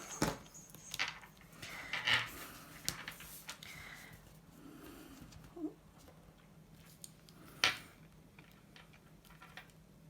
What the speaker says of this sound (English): my checklist, I'm just going to cut down to a 3.